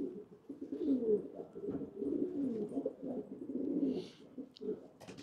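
Pigeons coo softly on a rooftop, with repeated low, rolling calls layered over one another in a fairly close, quiet, continuous murmur.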